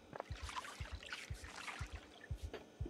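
Water splashing and trickling as a character washes in Project Zomboid, with a steady run of low, soft splashing pulses close by and no talk.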